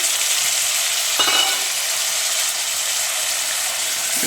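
Chicken being stirred together with curd and turmeric for kebab marinade, a soft continuous wet mixing and scraping texture with a brief louder clatter, steady and close, no talking.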